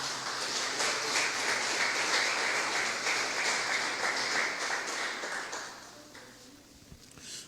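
A church congregation claps together in praise, a dense steady patter of many hands that holds fairly loud for about six seconds, then thins and fades toward the end.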